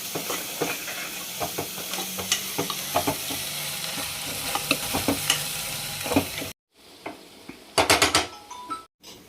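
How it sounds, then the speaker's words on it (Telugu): Ginger and turmeric fry in a pan with a constant close sizzle and frequent sharp scraping stirs, cutting briefly to silence near the end before more stirring clatter; no voices. "పచ్చివాసన అంతా పోయేలాగా బాగా వేగాలి"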